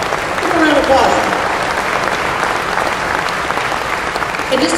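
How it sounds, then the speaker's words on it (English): Audience at a keynote talk applauding the speaker: steady, dense clapping from a full room that swells early and then holds at a strong level throughout, with no clear speech over it. "please give this gentleman one more give"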